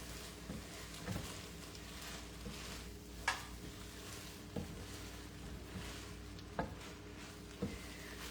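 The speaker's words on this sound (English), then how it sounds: "I'm gonna put my rice in. In there, mix that up." Rice is stirred into a sizzling pan of stuffed pepper filling, a steady low fry hiss broken by occasional spoon scrapes and knocks against the pan, close and fairly quiet.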